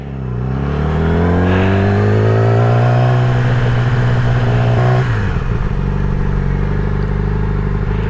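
A 2016 Yamaha R6 sport bike with a quickshifter, its engine revving and pulling steadily under way, loud and close, with the pitch climbing for several seconds before a gear change drops it.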